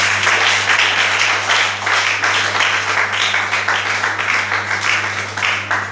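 A church congregation at a celebration service claps steadily together, a dense continuous patter of hands with a low steady hum beneath and no speech over it.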